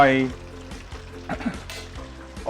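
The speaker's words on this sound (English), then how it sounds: "so when you are double frying, you can't double fry for too long" Pork ribs double frying: soft sizzling and bubbling in hot oil, with faint clinks and stirring, fairly quiet.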